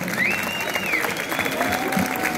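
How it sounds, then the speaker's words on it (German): Crowd applause for two people at the finish of an SBG29 event, a steady, fairly loud spread of clapping with a couple of whistles and faint cheers riding over it. "Nochmal einen fetten Applaus an die beiden."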